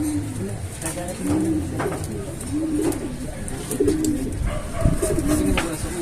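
A breeder pigeon hen coos repeatedly in close, rhythmic rolling phrases, with someone talking quietly over some of the calls.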